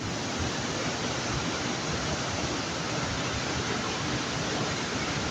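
Bega Falls in Prosperidad, Agusan del Sur, Philippines, pours as a loud, steady roar of rushing water, a dense unbroken wash with no voices.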